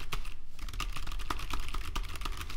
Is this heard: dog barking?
no